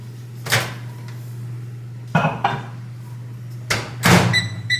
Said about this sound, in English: I'm just going to heat this in the microwave for like 2 minutes.